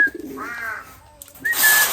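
Pigeons coo in short, throaty calls close by as the flock settles, a brief wingy flutter and rustle following, with no talking.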